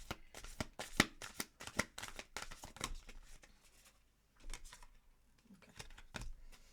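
Tarot cards from a dark crystal deck are shuffled in quick, crisp riffling bursts close by, with short pauses and a few softer taps as cards are drawn, faint overall.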